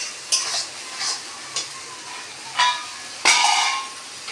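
Water poured into frying masala for a kasuri methi paneer curry, setting off a few sharp sizzling bursts with stirring in between, the loudest hiss near the end.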